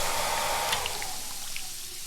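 Video-game hairdryer melting giant snowmen, a continuous airy blowing hiss with a few faint bright chimes dropping in, steady and moderately loud with no voices.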